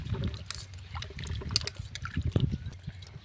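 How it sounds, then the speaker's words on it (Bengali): Raw mangoes being washed by hand in a bowl of water, soft close splashing, sloshing and trickling in irregular bursts. "ভালো করে আমটা আমি ধুয়ে নিচ্ছি"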